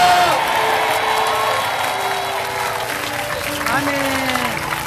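An audience at a Korean outdoor rally applauds and cheers as a speaker is introduced, a continuous wash of clapping and whoops under amplified voices and tonal sounds throughout.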